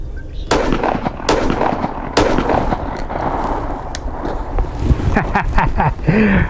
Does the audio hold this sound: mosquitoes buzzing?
no